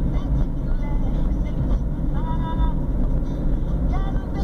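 A 2010 Chevrolet Celta engine hums steadily inside the cabin while driving, a loud continuous low drone with faint rising whines as it shifts through the gears.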